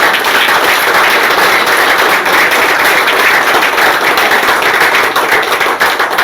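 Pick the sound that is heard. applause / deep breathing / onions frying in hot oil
applause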